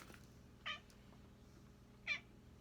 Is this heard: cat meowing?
yes